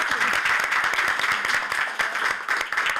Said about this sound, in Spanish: Un aplauso de nuevo para ti.